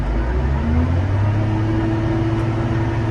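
The engine of a Caterpillar 950 wheel loader drones loud and close, its pitch climbing steadily as the throttle is pressed and the loader arm lifts.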